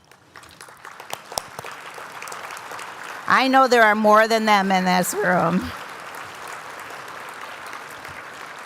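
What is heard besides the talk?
audience applause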